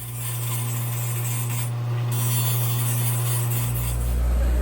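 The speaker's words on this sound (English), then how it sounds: "let me grind this off" Grinder grinding down a check valve to fit a pipe, a loud steady whining rasp running continuously, with the motor pitch dropping near the end.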